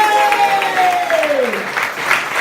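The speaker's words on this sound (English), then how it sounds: "that applause did get there, right there" A pitch night audience applauds the announced winner, loud close clapping and cheering from a room of people, with a falling whistle-like tone sliding down through the middle and voices mixed in.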